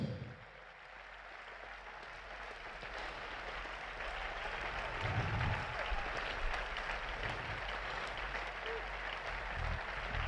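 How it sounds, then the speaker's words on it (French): Congregation applauding at a funeral tribute for Maman Blanche, a steady sustained wash of clapping hands that swells slightly and continues without a break, with faint voices underneath. "Acclame très fort."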